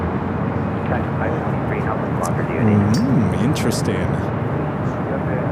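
A Hawaiian Airlines A330 airliner at LAX, its engine roar a steady broad rumble across the clip, with a person talking briefly over it.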